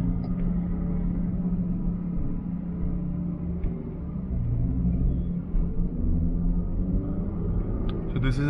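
A large MG Gloster diesel SUV accelerates, heard from inside as a steady low engine drone and rumble with little change in pitch, continuous and moderately loud.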